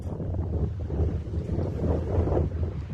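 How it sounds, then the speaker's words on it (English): Strong wind buffets the microphone on an extremely windy day in New England, a loud, continuous rumbling roar with gusty swells and no voices. "Very windy, as you can tell."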